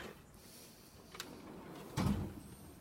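A file drawer in a clinic office opens with a brief, soft sliding rumble and a muffled thump. It sounds faint against a quiet room, with a small click just before.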